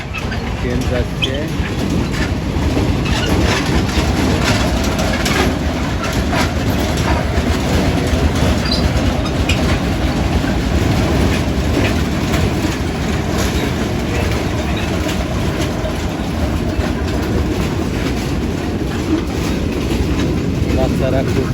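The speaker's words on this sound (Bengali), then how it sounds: "ট্রেন যাচ্ছে।" Toy train in a park rolling past with a steady rattling clatter of wheels, continuous and fairly loud, under speech and the faint chirping of birds.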